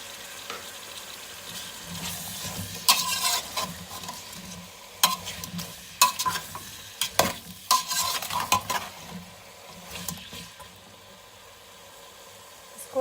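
Tomatoes and potatoes cooking in a pan give a soft, low sizzle broken by repeated scraping and clattering stirs, irregular and fairly close, with no talking.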